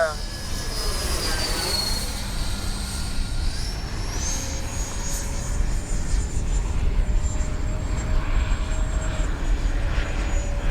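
An FMS Rafale 80mm RC jet passes by with its landing gear down, a steady whooshing turbine-like roar with a rising whine, loud and continuous across the whole stretch, over broadband wind noise.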